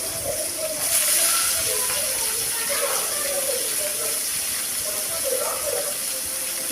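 Spices crackle and sizzle in hot oil in a pan while fish gravy is cooked, a steady hissing frying sound throughout with a person talking over it.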